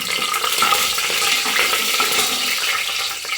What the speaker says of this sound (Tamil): இந்த பட்டை கிராம்பு இதெல்லாம் தேவையில் ஆட் பண்ணிக்கலாம் இது நல்லா பொரியட்டும்